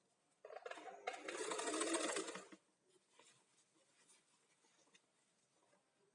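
A sewing machine stitches the V section of an A-line dress, one steady close whirring run of about two seconds, followed by quiet faint handling sounds.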